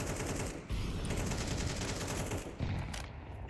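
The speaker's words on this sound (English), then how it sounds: "It's another nade kill." Rapid, dense gunfire and grenade blasts in a competitive tactical shooter esports match, loud and continuous for a few seconds with no voices.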